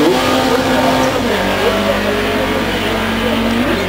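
Race car in Group F at a 2008 hill climb at Saint-Gouéno, engine note rising and falling loud and close throughout, with a voice talking over it.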